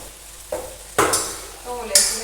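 Potatoes sizzle in hot oil in a home kitchen pan, with a few sharp stirring scrapes and clinks over a low frying hiss.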